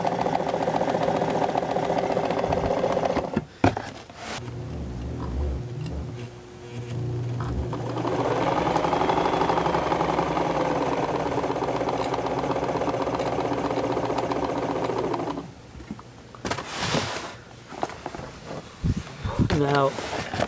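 A vintage 1958 Kenmore sewing machine, model 117.841, runs with a steady mechanical hum and whir that holds through most of the stretch, broken by a few brief stops and restarts, with someone talking over it.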